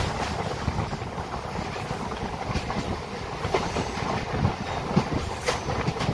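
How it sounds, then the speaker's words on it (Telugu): A packed MEMU passenger train runs along the rails, a continuous rumbling roar with rhythmic clickety-clack from the wheels, heard from inside the carriage without speech. "నాకు ఈ మెమో ట్రైన్ అంటే చాలా ఇష్టం అండి. ఎందుకంటే దీని యాక్సిలరేషన్ చాలా క్విక్గా ఉంటుంది."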